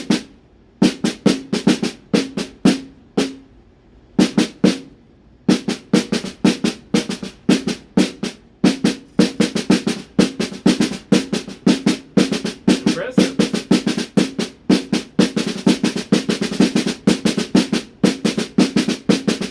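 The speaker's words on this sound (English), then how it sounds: "Just let the stick bounce freely, but alternate between right and left." Drum roll played with sticks bouncing freely and alternating right and left hands, a fast run of sharp strokes with brief pauses early on, then a steady, dense, loud roll continuing without talk.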